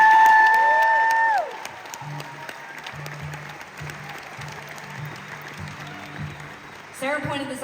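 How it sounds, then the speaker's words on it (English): A sustained music chord from a concert on a Niagara boat slides down and stops, and a murmuring crowd follows with scattered claps and chatter, ending in a louder burst of cheering and shouting. "So a huge round of applause for my friend Grant Siglitsky."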